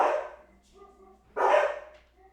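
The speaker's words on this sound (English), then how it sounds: "the dogs are going nuts because somebody knocked on the door" Dogs bark inside a house in reaction to a knock at the door: two loud, close bursts of barking about a second apart, with quieter yips and whines in between.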